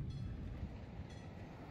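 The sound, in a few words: loud passing train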